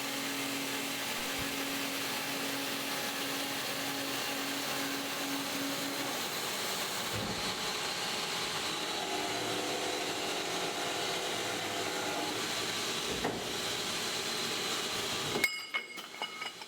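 An Amada HP310 band saw cutting metal produces a steady, dense mechanical whir with a constant tone that runs throughout, then shifts briefly near the end.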